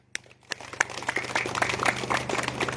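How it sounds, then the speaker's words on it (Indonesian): Audience applause at an Indonesian religious lecture on Islamic knowledge, rising from scattered claps into a steady, fairly quiet round of clapping that continues to the end. "Tepuk tangan."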